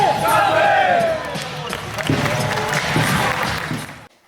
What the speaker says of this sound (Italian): E questi gli applausi per la Luker Sambe che se li merita.